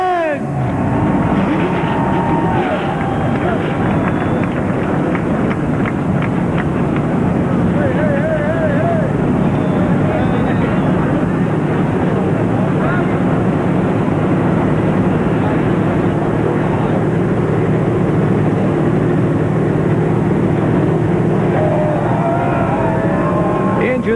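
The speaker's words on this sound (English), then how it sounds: "Engines have fired." Forty-three NASCAR stock car engines fire up together at Daytona for a 300-mile race, a loud, dense, continuous roar with wind buffeting and crowd noise layered throughout.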